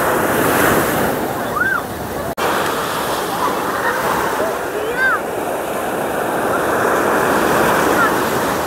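Ocean surf rolls in continuously at Alappuzha beach at sunset, a loud broad wash of breaking waves with wind buffeting the microphone and a brief sharp knock partway through.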